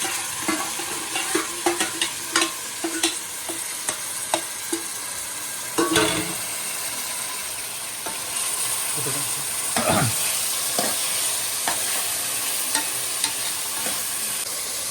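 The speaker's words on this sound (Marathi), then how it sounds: "मी आता हा जे मॅरिनेट केलेलं जे आमचं मटण होतं, जे काल रात्री मॅरिनेट करून ठेवलेलं, त्याच्यामध्ये पोर करतोय हळूहळू" Marinated mutton sizzles loudly as it is poured into gravy in a hot pan, with a spoon scraping and stirring in uneven strokes over a continuous close-up frying hiss.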